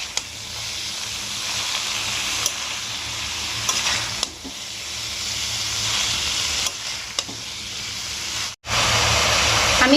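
Cabbage with fish head being sautéed and stirred in a pan with no water added, a steady close sizzle and fry broken by a few scraping stirs and a brief pause near the end.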